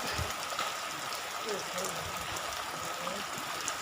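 Heavy rain pours steadily in a dense, continuous hiss at an outdoor work site being readied for a wedding, with a faint voice murmuring underneath.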